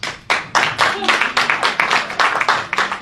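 Scattered audience clapping in uneven bursts, with some people clapping more sharply than others, fairly close and lively.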